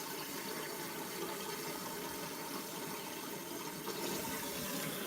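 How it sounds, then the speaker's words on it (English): Tap water runs steadily into a jar at a kitchen sink, making a continuous faint gushing hiss with no talking. "I'm busy filling that with water."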